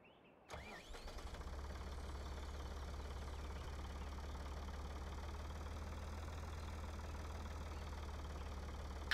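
A small tractor in Farming Simulator 2013, fitted with a long wood chipper on the front, cranks over and settles into a steady, droning idle that carries on alone to the end.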